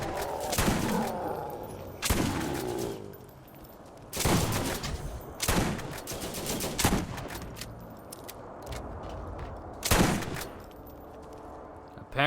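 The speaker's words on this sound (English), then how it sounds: "Apparently, the undead can deploy turrets." Turrets deployed by the undead in Borderlands fire in loud, booming bursts, around six separate blasts spaced a couple of seconds apart over a rumbling background.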